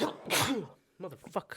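A single loud sneeze bursts out close up, followed right after by a voice speaking.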